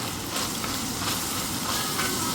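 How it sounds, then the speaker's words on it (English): Sliced garlic and chili frying in a pan with lots of steam, giving a steady loud sizzle and hiss with a few sharper crackling bursts. "Now add in our sliced garlic and chili."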